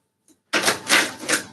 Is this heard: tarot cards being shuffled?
yes